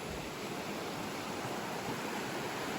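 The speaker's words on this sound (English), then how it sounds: "Trickling a little water." A small tributary of Minister Creek trickling steadily, a continuous broadband wash of running water that is close and even, with no voices.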